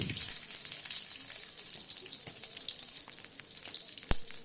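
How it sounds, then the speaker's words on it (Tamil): Onions fry lightly in a pan for idli sambar, giving a steady soft sizzle close by, with a sharp clink near the end and no talk. "இந்த பெரிய வெங்காயம் ரொம்ப ஃப்ரை ஆக வேண்டாம் லைட்டாக ஃப்ரை ஆனால் போதும்"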